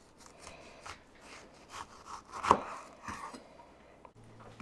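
A kitchen knife slices an onion into quarter-inch rings on a board, giving a string of soft, close, uneven chopping taps with one sharper crunchy cut near the middle, heard alone without talk.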